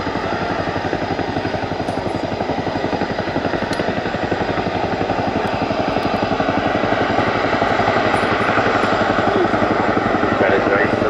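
RAF Chinook helicopter doing a nose-down quick stop at the Royal International Air Tattoo air show: a loud, continuous rotor thump with steady rapid pulsing and an engine roar, while a commentator talks over it.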